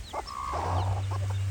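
Native country hen with her chicks, soft clucks and a drawn-out call from the hen up close, with faint peeping from the chicks and a low steady hum underneath.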